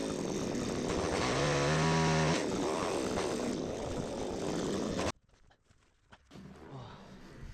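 A chainsaw cuts old dry logs during winter woodwork in freezing temperatures. It roars loud and steady up close for about five seconds, then cuts off abruptly, leaving quieter shuffling and handling noises.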